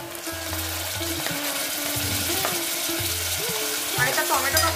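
Chopped onion, crushed garlic-chili paste and finely chopped tomato sizzle and fry steadily in a pan, with a continuous close crackle and occasional stirring scrapes and knocks.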